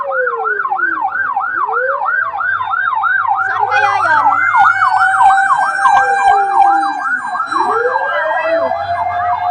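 Several fire truck sirens overlap loudly and close by at a fire, rising and falling continuously as the trucks arrive, with traffic rumble and a brief voice underneath.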